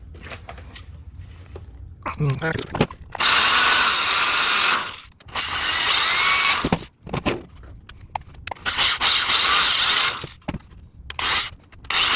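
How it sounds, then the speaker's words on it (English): A power drill whirs in several bursts of a few seconds each while drilling holes for a shoulder lamp build, with scraping and handling noises between them, fairly close. "So I'm going to first drill these ones out"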